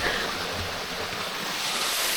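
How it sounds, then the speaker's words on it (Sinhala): Steady, dense rush of falling water at a waterfall in Litchfield National Park near Darwin, a continuous broadband roar that stays even and unbroken throughout, with no voices. "waterfall"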